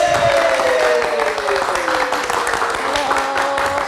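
Live talk-show studio audience applauding as a young musician guest is introduced, a continuous, moderately loud clapping texture mixed with a sustained tone and a speaking voice on top.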